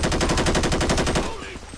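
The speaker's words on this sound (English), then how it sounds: "Shots fired." A rapid burst of gunfire rattles loud and close in GTA V with the LSPDFR police mod, roughly a dozen shots in quick succession, then fading into a brief echoing tail.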